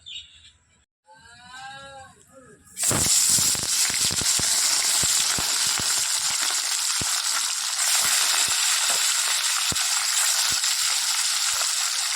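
Bitter gourd and potato pieces frying in a pan: a quiet stretch gives way to a loud, steady sizzle with scattered sharp pops and crackles throughout.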